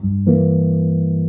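A low, sustained plucked E half-diminished chord on bass guitar rings out, shifting to a fuller, richer voicing a moment in and holding steadily to the end.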